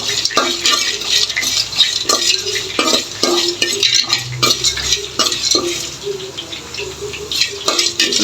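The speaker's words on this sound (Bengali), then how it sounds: "এলাচি এগুলি একটু টেলে নিব একটু শুকনা খোলা এটি টেলে নিব" Cardamom and other dry spices rattle and scrape as they are dry-roasted and stirred in a hot pan, a rapid rhythmic patter of a utensil against metal, loud and close.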